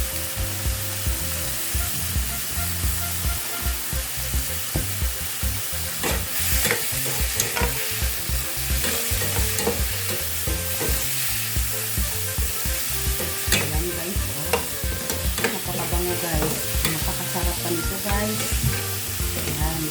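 A spoon scrapes and knocks through a simmering pot of sinigang with chicken and shrimp as tomatoes are crushed, rhythmic stirring clatter over a constant sizzle, close and loud with no voices.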